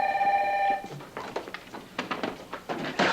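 A telephone bell rings briefly in a soap opera scene, a short bright trill at the start followed by clunks and handling sounds as the receiver is picked up.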